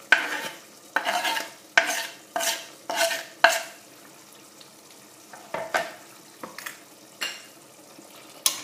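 Garlic frying in a pan is stirred in repeated bursts of scraping and sizzle, loud at first and then softer and sparser, with a low hiss running underneath and no talking.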